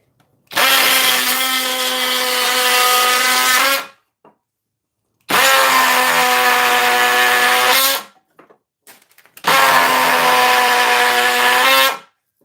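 A DeWalt power saw running in three long, loud bursts of steady high-pitched whine, each lasting several seconds, with short quiet gaps and faint handling noises between them.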